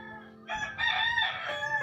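A rooster crows once nearby, a loud harmonic call rising and holding for just over a second, with chickens in the background.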